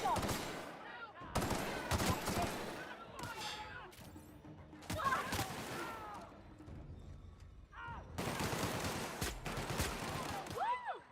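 Enemy gunfire in an adventure video game, coming in several separate bursts of rapid shots with short pauses between them, fairly loud against background game sound.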